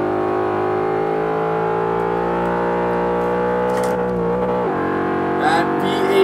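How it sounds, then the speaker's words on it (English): V8 car engine in Forza 5 holding a loud, smooth, steady drone under throttle that shifts pitch near the end, with faint background sounds at the close. "That V8 just sounds absolutely beautiful."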